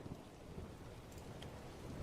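A rainy campfire ambience plays as steady, quiet rain hiss with a low rumble of thunder running under it, continuous and soft throughout, with no speech.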